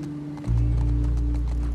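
A horse is ridden in the video game The Last of Us Part 2, its hooves making a rhythmic clip-clop over a low, steady rumble that swells slightly after a brief quieter opening.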